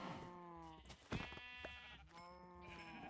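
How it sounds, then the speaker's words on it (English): Sheep in a video game bleating repeatedly, wavering nasal cries in close succession with a short clatter between them, quiet overall and with no talk. "I'm gonna take out some of these sheep."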